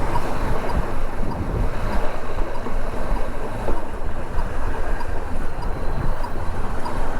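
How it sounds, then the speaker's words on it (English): Wind buffets a rider on a CB500X motorcycle during a windy commute, making a constant loud, rumbling roar with no pauses. "Ooh, it's windy."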